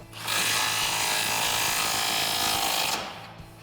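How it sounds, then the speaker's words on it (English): An 18 mm deep socket drives a nut tight on a 2014-2015 Silverado 1500 front bumper mount, a close, continuous whirring and grinding run lasting about three seconds before stopping abruptly. "I'm gonna grab my 18 deep socket, hold that nut, 18 wrench, tighten these down"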